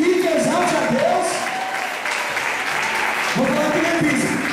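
A church congregation claps together in a loud, steady wash of applause, with voices calling out over it and a preacher's voice rising near the start and end.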